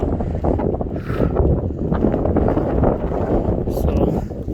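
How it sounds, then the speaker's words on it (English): Strong wind on the John Muir Trail in the mountains on a rainy day roars and buffets the microphone continuously, a loud, close, rumbling wash with gusts rising and falling. "You know, it's getting super windy though."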